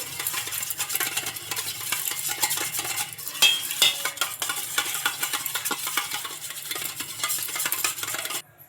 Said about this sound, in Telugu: ఈ పెరుగు సాల్ట్ వేసుకొని మొత్తం ఇలా బాగా కలుపుకోవాలి